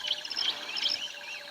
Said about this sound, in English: can hear the birds chirping away.